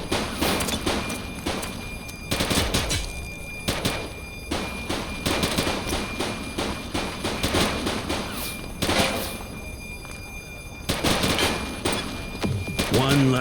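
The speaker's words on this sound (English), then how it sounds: "Shots fired!" Gunfire in The Precinct, an open-world police video game, with repeated bursts of sharp shots and rapid volleys coming in clusters at close range, loud throughout, with occasional voices between shots.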